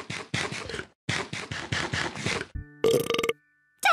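A cartoon burp meant to sound like a dinosaur from Peppa Pig comes as a string of rough, gravelly bursts in two rapid runs, then a short tonal jingle and a final brief scrape.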